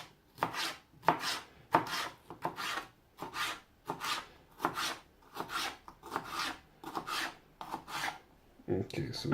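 A knife slices through ingredients for scrambled eggs on a cutting board in a steady series of about fourteen firm, evenly spaced chops, close and clear, with no talking.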